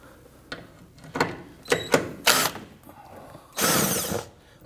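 A power drill backs a bolt out of the front lower engine splash shield on a 2011-2015 Kia Sorento, in several short whirring bursts with pauses between them and one longer run at the end.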